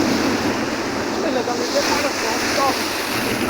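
Rough monsoon sea waves crashing and surging, a loud continuous roar with wind buffeting the microphone.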